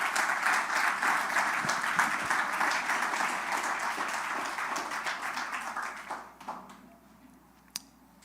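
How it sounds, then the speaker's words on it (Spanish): A church congregation applauding during a sermon, a full crowd of clapping that holds steady and then dies away into near quiet, ending with one last sharp clap. "Den un aplauso a Dios."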